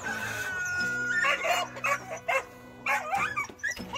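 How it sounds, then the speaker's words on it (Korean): A dog barks and yips close by in short, excited bursts, whimpering between them, while chickens fight nearby in a backyard flock. "닭이 싸우면은 저렇게 좀 짖어요"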